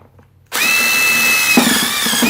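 After a quiet moment a power drill with a step drill bit whirs up to a loud, steady high whine as it cuts into plastic, its tone shifting slightly as the bit bites deeper.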